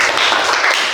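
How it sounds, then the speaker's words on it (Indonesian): A classroom of students claps together for a classmate in a short, dense burst of hand claps that sounds close and fairly loud. "Tepuk tangan untuk Sabnisa."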